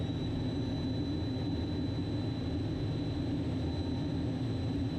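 Inside the cockpit of an A4 Skyhawk jet flying an airshow circuit as the flaps come down, a steady, dense engine and airflow roar fills the space with a faint high whine running through it.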